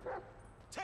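Chop the dog barks in the video game Grand Theft Auto V, two short close yips with a quiet pause between them, no talk over them.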